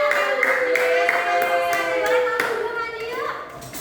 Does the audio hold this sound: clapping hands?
yes